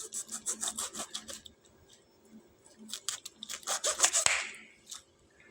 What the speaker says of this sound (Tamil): இப்போ அடுத்த லெமனை கட் பண்ணிடலாம்.